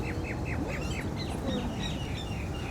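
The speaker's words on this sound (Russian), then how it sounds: "Птички тут очень интересные. Сейчас я вам покажу. Щебечет так классно." Small birds chirping in quick repeated downward notes, fairly close, over a low rumble of outdoor background noise in Dubai.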